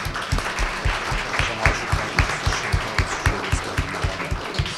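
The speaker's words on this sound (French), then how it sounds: "Je pense qu'on peut l'applaudir." Applause at a French conference launch event, with rhythmic, fairly loud clapping that falls into a steady beat throughout, close and without talk.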